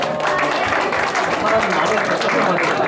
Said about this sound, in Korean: 자, 우주 팀에게 박수 한번 쳐주세요.